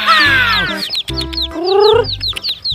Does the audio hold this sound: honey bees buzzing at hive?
no